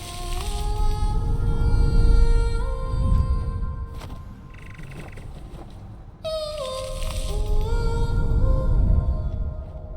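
A wordless singing voice from the video game GRIS holds sustained, gliding melodic tones over soft ambient music, pausing briefly before swelling back in with a new rising phrase.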